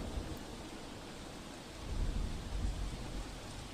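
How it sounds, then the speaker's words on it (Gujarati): Heavy pre-monsoon rain pours down in Ahmedabad as a dense, constant hiss. A low thunder rumble swells beneath it midway and lingers. "હાલમાં જે વરસાદ પડી રહ્યો છે, પ્રી મોન્સૂન એક્ટિવિટીના કારણે વરસાદ પડી રહ્યો છે"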